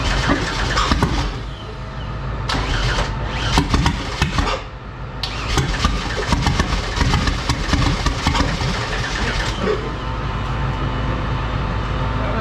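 Supercharged 3.8-litre Pontiac Fiero engine firing up for the first time on E85, roaring loud and close with uneven revs that dip and surge before settling into a rough, busy idle.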